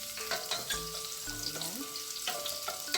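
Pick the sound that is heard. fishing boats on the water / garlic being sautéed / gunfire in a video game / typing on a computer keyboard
garlic being sautéed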